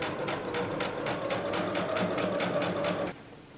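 A sewing machine stitching a folded fabric strip runs in a quick, even rattle of stitches for about three seconds, then stops abruptly, leaving quiet room noise.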